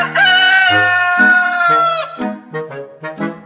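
A man imitates a rooster, giving one long, loud, strained cock-a-doodle-doo followed by a string of short, choppy clucking bursts, all close and clear with no other sounds.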